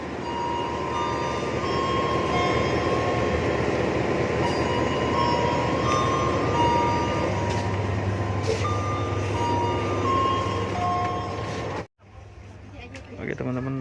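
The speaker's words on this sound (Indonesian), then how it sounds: "Persiapan untuk naik kereta api Logawa." Logawa economy passenger train on the Indonesian Kutoarjo to Surabaya line, a steady, loud rumble with high tonal whines and beeps that drops out abruptly near the end, with voices heard around it.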